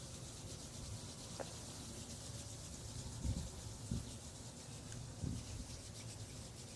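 Palms rubbed together during a guided meditation, a soft continuous friction swish with a few brief louder strokes, heard close and alone.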